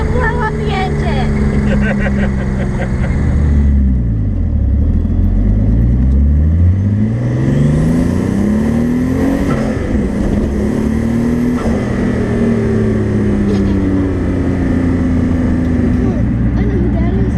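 A turbocharged Datsun 280Z engine revs up and down repeatedly, its loud, close drone sweeping in pitch as the throttle rises and falls, with voices faintly underneath.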